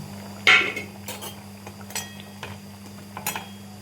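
Lentil fritters are dropped into a pot of potato curry, giving a sharp metallic clink against the pot followed by a few softer taps and scrapes, close and quiet over a low steady hum.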